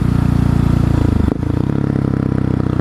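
A Husqvarna 701 supermoto motorcycle engine running hard up close, a loud buzzing drone that dips sharply midway then settles into a lower steady throb.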